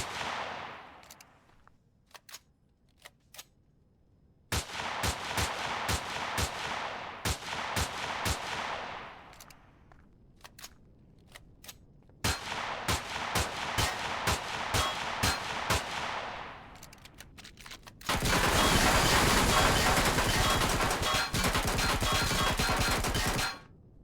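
Bursts of rapid rocket and weapon fire from an enemy in the space survival game Empyrion: Ad Astra 2, loud repeated volleys separated by short pauses, ending in a dense sustained roar of explosions.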